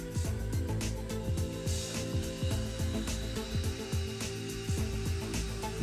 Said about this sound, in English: The teeth are cleaned with toothpaste and polished with a rubber cap polishing tool